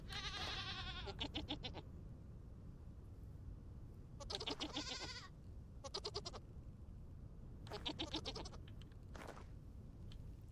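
Goats in the survival game Vintage Story bleat in several separate bursts spread over about ten seconds, each a sharp, wavering cry standing out clearly above a quiet background hum, with no voices.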